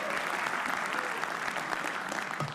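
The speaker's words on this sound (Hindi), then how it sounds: "एक बार बादल के लिए तालियां बजा दो" An audience at a comedy roast applauds for comedian Badal Sharma, a dense burst of clapping that carries steadily for a couple of seconds, fairly close and lively, tapering slightly at the end.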